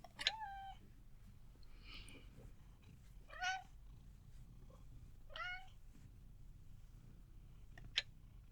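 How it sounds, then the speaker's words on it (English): A cat meows several times, short plaintive calls spaced a couple of seconds apart over a low, steady hum, faint and fairly close. "Let's get a cat joining me again."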